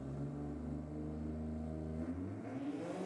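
Ford GT Torino drag car with a small-cube SVO engine, at a nitro drag racing meet, holds a loud, steady revving drone with rising tones, then eases off and drops away after about two seconds.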